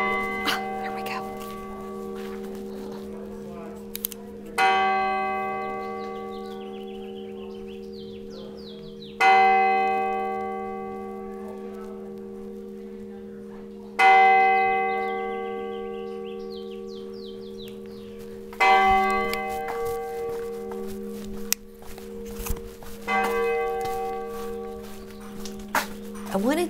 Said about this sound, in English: So we're waiting for the clock tower to chime.